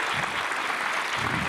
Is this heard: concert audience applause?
yes